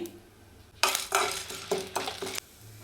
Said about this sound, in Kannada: ಒಣಮೆಣಸಿನ್ಕಾಯಿ ಹಾಕೊತಾ ಇದ್ದೀನಿ ಕಡಲೆಬೇಳೆ ಹಾಕ್ತಾಯಿದ್ದೀನಿ